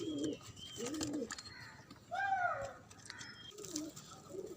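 Khal pigeons in a breeding setup coo in low, rolling phrases, several calls rising and falling across the clip, with a few brighter chirps mixed among them, close and moderately loud without any talking.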